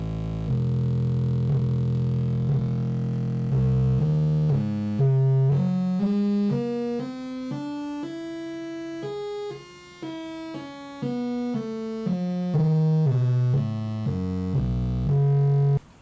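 A homemade Arduino theremin produces a steady electronic tone that steps up and down through discrete pitches as hand distance changes, climbing then descending across sixteen seconds, moderately loud and alone without any voices.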